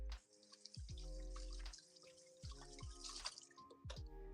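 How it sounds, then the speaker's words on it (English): Water from a kitchen tap runs over hands in short splashy spells, stopping and starting with gentle drips, close and fairly soft. "another little rinse and wipe"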